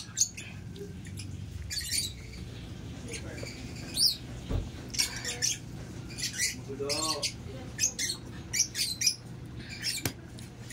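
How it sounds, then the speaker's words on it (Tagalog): Pet lovebirds call noisily in repeated sharp bursts of chirps and squeaks, fairly close, against a low background hum, with a voice briefly audible. "Ang ingay ng lovebirds."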